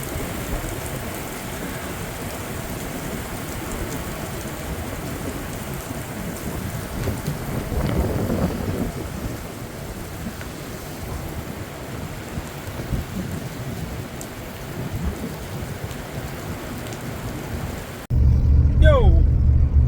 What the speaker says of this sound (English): Yep, it does rain in Alaska.